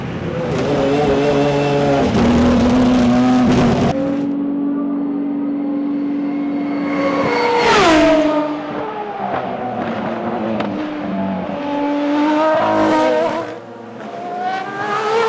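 An Aston Martin Valkyrie race car racing on track, its engine loud and close with high-pitched revving, shifting pitch sweeps, a sharp surge near the middle and a fall-off as it passes.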